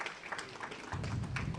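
A gathering at a Mahashivratri programme breaks into applause, a short, fairly faint patter of clapping that thickens and grows fuller halfway through.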